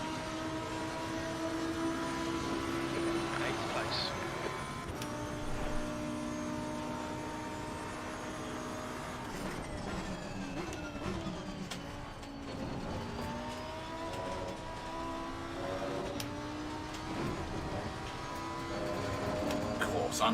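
A race car engine screams at full throttle around the Imola circuit in the racing game Assetto Corsa Competizione, a loud sustained high-pitched whine rising through the gears with brief shift dips, close and continuous with no talk.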